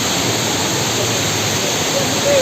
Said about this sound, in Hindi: ये रहा वाटरफॉल।